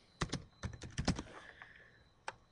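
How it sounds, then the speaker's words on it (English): Typing on a computer keyboard while entering a press release: a quiet, close run of irregular key clicks in short bursts with a brief pause and one final tap. "So I'm just going to type that in."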